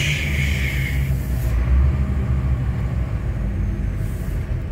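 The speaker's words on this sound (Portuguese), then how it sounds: "E o freio motor?" A heavy truck's engine brake drones and rumbles steadily up close, its low growl holding under a brief higher whine at the start.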